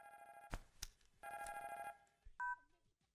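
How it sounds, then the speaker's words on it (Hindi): A telephone rings in a few short bursts of trilling bell tones with gaps between, fairly faint, followed by a brief electronic beep. "फोन बज रहा है। तुम्हारा बज रहा है।"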